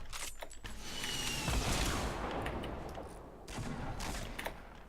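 Sniper rifle shots in an online shooter game sound as a sharp report followed by a dense, noisy rumble, a second burst arriving near the end, all quiet and distant-sounding with no voices.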